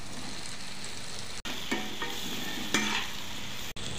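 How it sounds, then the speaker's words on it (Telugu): Mushroom pieces and cashews fry in a pan, a soft continuous sizzle with a few scraping stirs and two brief dropouts, fairly quiet and close, with nobody talking. "ఇదంతా బాగా కలిసేలాగా మిక్స్ చేసుకోవాలి"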